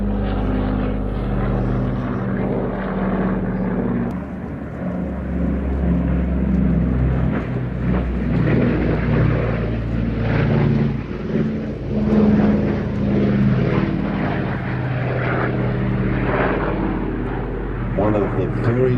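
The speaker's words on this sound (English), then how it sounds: "This is not how you see an airliner being flown, but this is being beautifully flown and controlled today" A four-engine airliner flies a low display at an air show, its propeller engines droning loud and steady throughout with rising and falling roar, while a commentator talks over it.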